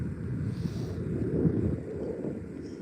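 Gusty outdoor wind buffeting a microphone, a low rumbling whoosh that swells and eases over a few seconds, fairly close and moderately loud with no voices.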